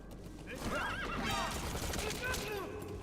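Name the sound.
D-Horse neighing in video game Metal Gear Solid V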